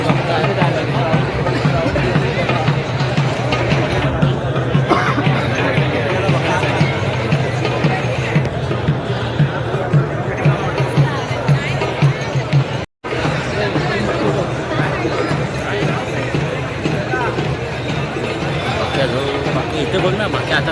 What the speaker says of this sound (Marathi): गर्दी बघू शकता